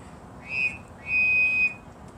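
The low tone of a two-tone whistle on a miniature locomotive sounds as a short toot followed by a longer sustained one, soft and clear with nothing else heard.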